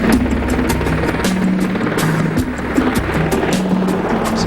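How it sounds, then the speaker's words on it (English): Marine One, the presidential helicopter, comes in to land on the south lawn of the White House, its rotor beating a loud, rhythmic chop over a constant engine roar. "Marine One is the helicopter that has the president on board and lands on the south lawn of the White House"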